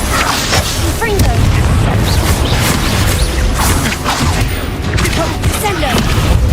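Confringo fire spell blasts in the video game Hogwarts Legacy, loud booming explosions and crackling impacts layered densely with combat effects, steady and close throughout with voices mixed in.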